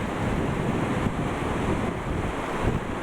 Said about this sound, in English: Some pretty good little waves crashing through.